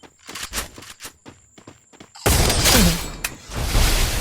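Gunfire in a shooter video game, first a run of sharp separate shots with short gaps, then a sudden loud, sustained burst of rapid fire and impacts.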